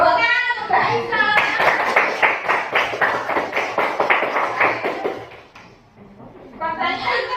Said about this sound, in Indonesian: Tepuk tangan untuk Mbak Aisyah.